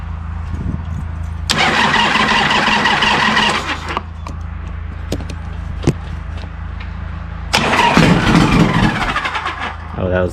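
A motorcycle with its exhaust baffles removed starts from cold: a loud raspy engine burst, an idle with faint clicks, then a second loud rev. A voice may be faintly present underneath.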